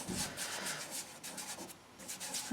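A fingertip rubs soft pastel into paper in small circular and crisscross strokes, a faint, close, dry scratching that keeps on in soft repeated swishes, with no talk.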